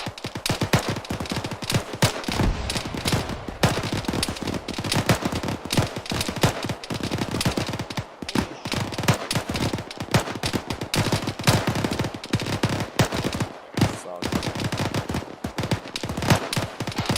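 Sustained automatic gunfire from the video game Arma 3 rattles on almost without pause, with dense, overlapping bursts of rifle and machine-gun shots. Only brief gaps break the loud, continuous exchange.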